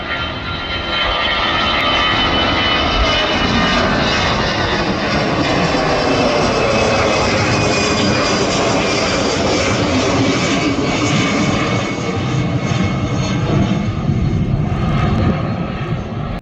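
Airliners at Manchester Airport heard from the spectator terrace at Ringway Visitor Park, a loud, continuous engine roar that holds steady and broad throughout, close by and with no talking over it.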